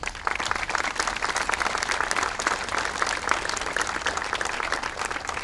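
Sustained applause from an audience honoring a 10-year-old Cal Ripken World Series championship baseball team, dense and steady clapping throughout without any talk over it.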